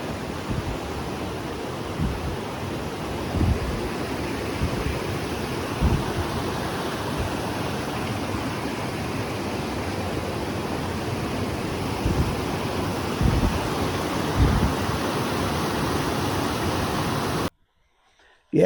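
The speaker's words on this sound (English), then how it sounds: "This is Thompson's River." Steady rushing flow of Thompson's River along a hiking trail, a continuous broadband roar of moving water close by with occasional louder splashes, cutting off abruptly at the end.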